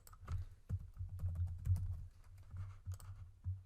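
Search terms are typed on a computer keyboard in a quiet room, a steady run of soft, close key clicks and thumps at an uneven pace, with no talking.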